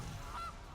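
A single short goose honk plays as a card sound effect in the MTG Arena video game, a brief nasal call over a low background hum.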